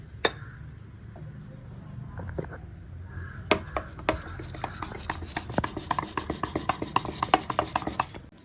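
Eggs being beaten with pepper and onion in a bowl, a dense run of quick rhythmic clinks and scrapes that builds and speeds up over the second half, close and moderately loud.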